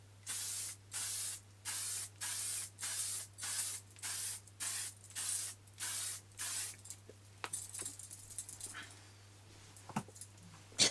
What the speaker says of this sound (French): En faisant déjà un petit spray comme ça.